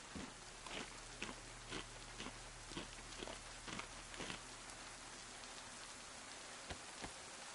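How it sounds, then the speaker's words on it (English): Steady rain falls in the video game DayZ, a constant hiss with scattered raindrop ticks and a low hum underneath, continuous and moderately loud with no talking. "And it's still raining."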